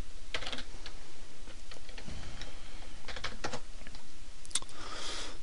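Fingers tap out text on a computer keyboard in quick, uneven bursts of clicks at close range, with short pauses between the runs of keystrokes and no voices.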